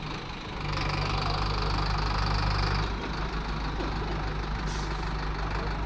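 A bus engine idling and revving on a mountain road beside a cow, a steady close diesel drone that rises briefly, then settles to a lower hum.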